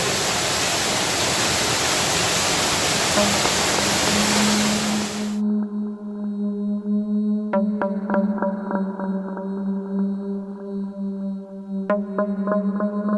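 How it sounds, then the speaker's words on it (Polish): The underground waterfall in Giant's Hole cave roars loud and steady for about five seconds, a dense rushing wash, before cutting off abruptly into music. "Jesteśmy przy podziemnym wodospadzie."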